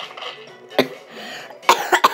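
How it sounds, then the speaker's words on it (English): A few close coughs: one sharp cough, a short pause, then a quick cluster of two or three more. "I keep on coughing today."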